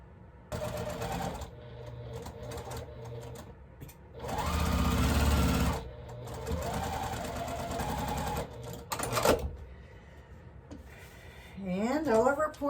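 A sewing machine stitches a quilt block in short bursts, its close whirring interrupted by pauses, handling clatter and a few quick rising squeaky tones.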